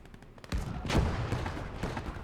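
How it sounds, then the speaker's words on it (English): In a Gates of Hell Ostfront match on the Farmstead map, a Bofors cannon fires a few heavy, booming shots with a rumbling tail, in quick succession at mid-distance. "So he opens fires with that Bofors cannon."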